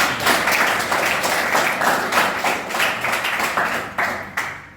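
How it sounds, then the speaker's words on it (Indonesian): A classroom of students claps together for a classmate, a dense, steady patter of many hands close by that runs the whole time and thins toward the end, with a few sharper individual claps. "Tepuk tangan untuk Mas Umar"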